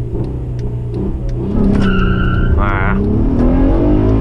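A manual Acura TL accelerates hard, its loud engine roaring near the microphone, and a brief tonal whine and pitch shift mark a gear change partway through; a voice lets out a short exclamation.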